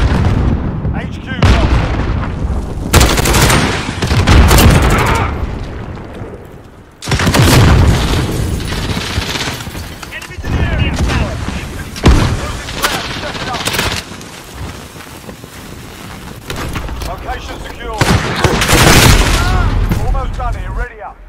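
Rapid gunfire from a Grau 5.56 assault rifle in the Modern Warfare video game, loud bursts and booming shots in clusters across the clip, mixed with explosions and someone talking over the action.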